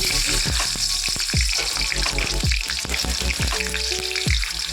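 Nigella seeds and two green chillies sizzle in hot oil as a tempering for a Bengali vegetable curry, a close, steady crackling fry with sharp pops and a few scraping stirs and clinks.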